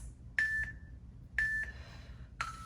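A workout interval timer beeps three times at steady one-second spacing, each a bright, clear electronic tone standing out over a quiet room background during a TRX total body suspension training session.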